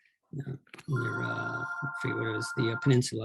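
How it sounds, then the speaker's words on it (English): A telephone rings with a sustained electronic tone under someone speaking close to the microphone, the ring running through most of his sentence. "Excuse the phone."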